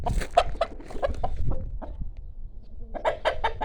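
Several roosters cluck nearby in short, uneven bursts, with a brief lull before a fresh flurry of clucking; nobody speaks.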